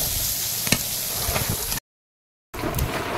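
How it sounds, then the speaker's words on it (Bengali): Leafy greens frying in a pan over gentle heat, giving a steady close hiss of sizzling with a few small pops, cut off by a short gap of silence before the frying resumes. "শাক ভাজাটা এদিকে হয়ে এসছে, এদিকে আর জাল দিচ্ছি না, আস্তে আস্তে শাক ভাজাটা হোক।"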